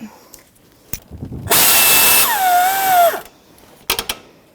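A power tool with a socket spins in a burst to tighten a radiator mounting bolt on a 2007-2017 Jeep Patriot 2.4L, close and loud, with a rising whine, framed by a few sharp metallic clicks.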